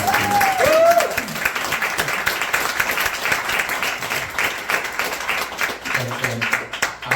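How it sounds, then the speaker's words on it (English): Applause at a jazz concert, a crowd clapping steadily at moderate volume with a brief voice over it at the start. "Just put your hands together."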